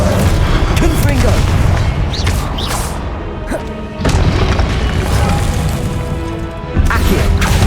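Confringo fire-spell blasts in the Hogwarts Legacy video game, a dense run of loud booming impacts and crashes layered over busy combat noise and shouted voices for the whole stretch.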